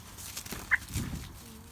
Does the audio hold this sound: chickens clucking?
yes